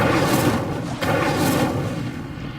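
An Incendio fire spell cast in Hogwarts Legacy gives a loud whooshing burst of flame, swelling twice in close succession before fading.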